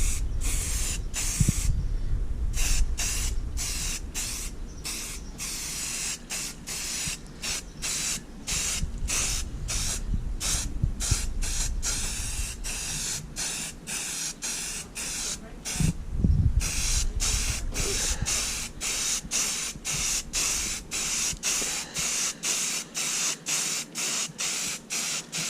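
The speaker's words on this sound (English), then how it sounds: "Always letting go of the spray when you pass" Primer spray painting on a P51 Mustang bass boat: a close spray gun hisses in short, rhythmic bursts, starting and stopping with each pass, while a voice talks over the spraying throughout.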